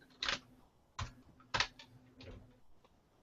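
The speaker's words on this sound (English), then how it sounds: "let's let Ben finish typing." Bursts of typing on a computer keyboard, a few clustered clicks separated by short pauses, fairly quiet and close with a faint steady hum beneath.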